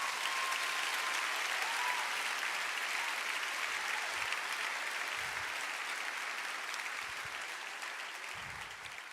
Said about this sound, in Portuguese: Bora aplaudir, pelo amor de Deus.